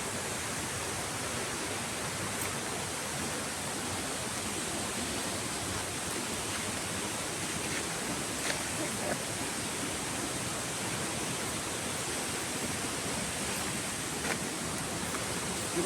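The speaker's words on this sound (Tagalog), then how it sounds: "ayun na yung falls ayun na yung falls guys, kita na yan" Buruwisan waterfall roaring in a steady, dense rush of falling water, loud and unbroken throughout, with no voices over it.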